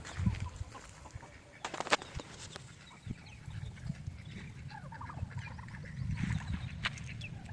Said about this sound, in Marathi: बघू शकता आपल्या मागे कुक्कुटपालन आहे